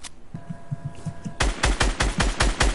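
Video game gunfire from a golf cart gameplay match: a sharp burst of loud, evenly spaced shots fires in a fast rhythm after a stretch of quieter, softer pops, close and alone with no voices.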